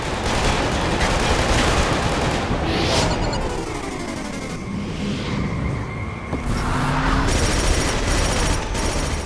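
Gunfire and battle noise in the Killzone 2 shooter video game: a dense, continuous wash of shots and explosions with no pauses, loud throughout.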